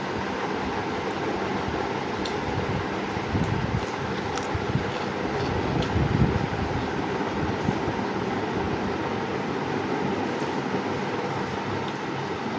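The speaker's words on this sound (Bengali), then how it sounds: "আজকে বাইরে প্রচুর বাতাস রোদ আছে" Strong wind blows outdoors on a sunny day, a steady, loud broadband roar with rumbling gusts that swell and ease throughout, and no voices.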